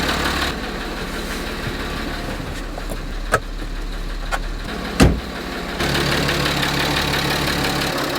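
A car engine idles steadily and loud, close up, with a couple of brief clicks, then the engine note rises slightly as it begins to rev toward the end.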